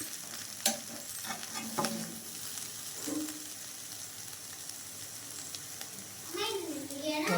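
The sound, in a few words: egg stir-fry (poriyal) frying in a pan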